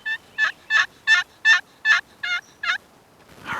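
Wild turkey gobblers in Wyoming mountain country give a run of eight rapid, evenly spaced gobbling notes, clear and fairly close, followed by a moment of quiet and faint rustling.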